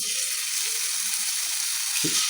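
Ginger garlic paste sizzling in heated oil for street-style egg ghotala: a continuous close crackle and hiss holds steady throughout, with a brief low thump near the end.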